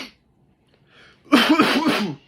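A person coughs in a short burst of several harsh hacks, close and loud, after a moment of near silence with faint breathing.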